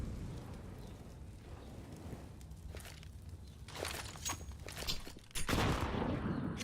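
A grenade bursts during a professional Counter-Strike esports match, a sudden loud blast near the end following scattered gunfire and movement noise, with faint commentary beneath.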